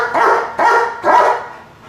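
Three sharp, loud barks from an attack dog, close by and evenly spaced, each cut short with a brief rough tail.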